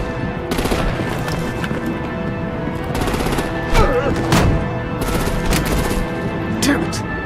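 Rapid bursts of automatic gunfire and heavy booms fill a Batman Telltale Season 2 game battle scene, loud and close, with shouted voices mixed in among the repeated volleys.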